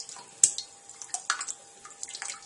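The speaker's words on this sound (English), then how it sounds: "with a little bit of running water, it can just help" Tap water runs over boiled eggs being peeled for deviled eggs, a faint, uneven splashing with small drips and taps against the shells, one sharper splash near the start.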